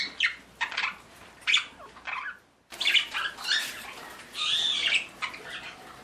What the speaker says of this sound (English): These are my canaries.